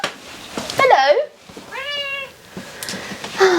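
A domestic cat meows indoors near the listener, with two or three drawn-out, rising and falling calls between a woman's speech.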